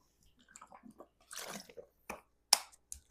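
Someone drinks water up close: small wet mouth sounds, a gulping swallow and several sharp clicks follow one another sparsely against quiet.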